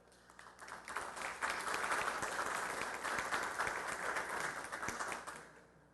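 A courtroom audience at a labor law seminar of La Libertad's Superior Court of Justice welcomes its speakers with dense applause. It swells over the first second, holds steady and full, then tapers off near the end.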